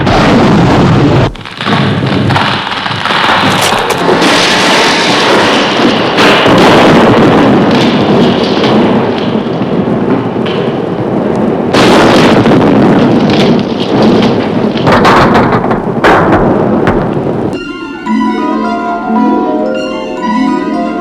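An escape capsule fires and launches in an audio drama: a loud, sustained roaring rush with crackling bursts that runs for many seconds, then drops away into a fainter, rhythmic ringing tail.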